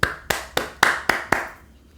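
A few people clap in unison, six sharp, evenly spaced claps over about a second and a half, close and clear, fading into quiet with no talk.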